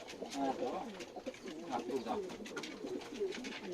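Soft, repeated coos of Adana pigeons, a diving breed, in a steady murmuring chorus, with a voice talking faintly underneath.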